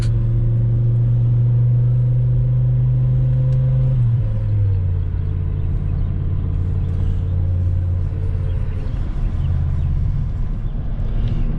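A BMW E60 M5 engine idles steadily while warming up, a loud, continuous low rumble with a slight pitch shift partway through and no talking.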